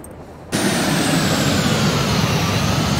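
In the game Carrier Command 2, an aircraft flies low and close over an island at night; after a quieter half second a loud, steady engine roar fills the rest, with no talk.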